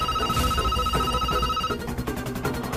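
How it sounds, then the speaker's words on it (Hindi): A telephone bell rings in a busy Indian household setting, its repeated bright trills sounding close and clear over background music and room noise. "कभी फोन बज रहा है"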